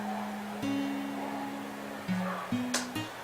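A clean synthesized guitar tone with no effects plays sustained single notes that change pitch a few times, with a couple of sharp attacks near the end, no talking.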